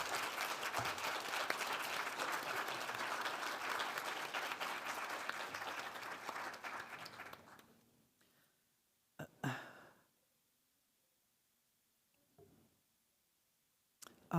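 Sustained applause from an audience at a talk on lived experience of the housing crisis fills the first several seconds, then fades out into near silence, broken by a couple of brief knocks.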